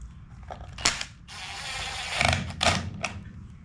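A Phillips screwdriver works screws out of an Echo PE-200 edger, giving close ratcheting, clicking turns and a few sharp metallic ticks in short bursts with no talk.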